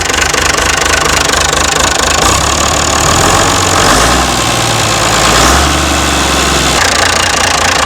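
An old Perkins turbo diesel engine running steadily at close range, with a loud, dense clatter and a knocking idle rumble that never lets up.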